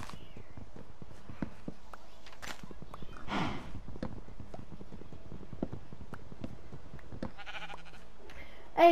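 In a block-building video game, a sheep gives a short bleat amid clip-clopping hooves and scattered footstep clicks, with a voice briefly audible.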